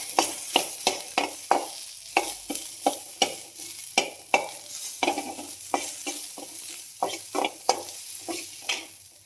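Onions stirring and sizzling in a hot pan for a tamarind chutney, with repeated sharp scrapes of a spoon against the metal over a steady background fry, close and fairly quiet.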